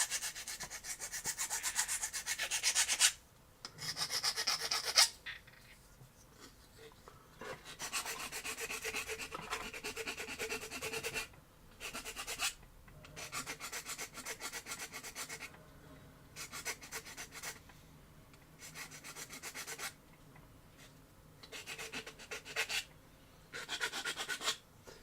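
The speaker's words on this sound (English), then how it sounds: "Now I'll go back to the side that I already glued, and I'll do a little bit of filing." A glued plastic model kit part is filed by hand in repeated rasping strokes of varying length, separated by short pauses. The sound is close, faint and quiet, with no speech.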